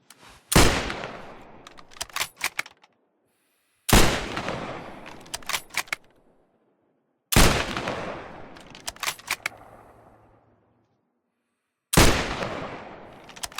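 Four loud single ranging gunshots in the WWII shooter Squad 44 (Post Scriptum), each a sharp crack trailing into a long echoing tail with short clicks after, separated by silent gaps.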